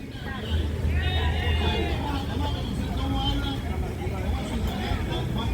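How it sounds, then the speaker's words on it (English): Noisy party tour buses roll through the nighttime streets of Bocagrande, Cartagena, their loud, steady din of music and crowd babble mixing with nearby traffic throughout. "What you hear is noise in these buses."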